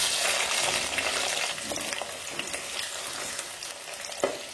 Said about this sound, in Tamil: அதுக்கப்புறம் பொடியை நறுக்கி வச்சுக்கிற சின்ன வெங்காயம் போடுவோம்.